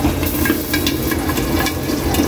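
Tawilis fish frying in hot oil in a pan, a loud continuous sizzle with crackling spatters and pops throughout and no one speaking.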